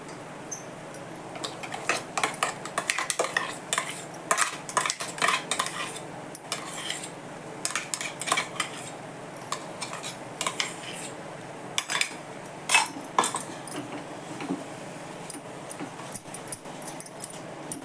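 Mango pulp is stirred into semolina sheera in a metal pan, a spoon clinking and scraping against the pan in quick, irregular bursts throughout.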